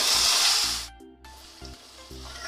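Gobindobhog rice and potato drop into hot oil in a frying pan, setting off a loud hiss that quickly settles into a softer sizzle, broken by dull knocks of a spoon stirring.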